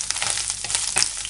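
Coconut, shallots and curry leaves frying in hot oil for a Kerala kootu curry, a dense steady sizzle with small crackles and stirring bursts, close and loud, no voices.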